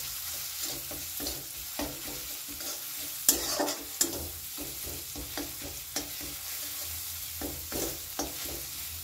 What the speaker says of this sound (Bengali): গ্যাসের ফ্লেমটাকে মিডিয়ামে রেখে এটা একটু নেড়ে নেব।